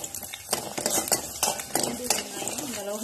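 Shallots and garlic sautéing in oil in a pan, heard as close metallic clinks and scrapes of a spoon stirring against the pan in an irregular rhythm, with a voice talking over it.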